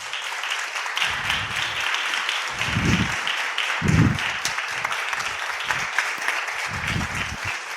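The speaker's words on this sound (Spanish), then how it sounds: "demos un gran aplauso a Miguel Ángel Cajigal Vera, más conocido como el barroquista." An audience at a Spanish stage show applauds steadily and loudly for an introduced guest, a sustained wash of clapping with a few heavier thumps.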